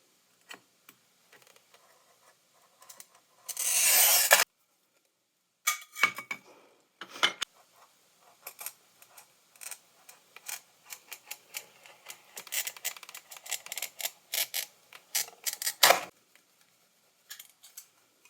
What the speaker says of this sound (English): so now I'm just gonna cut out the pieces